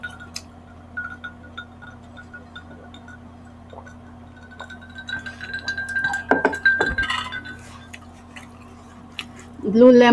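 Glasses clink together in a toast during a Filipino Tausug chicken mukbang meal, a bright chink rising amid chewing and table clatter, with people talking around it.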